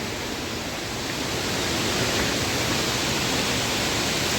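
Floodwater rushes loudly beneath a bridge in a steady, dense roar that holds constant for the whole stretch, with no voices over it.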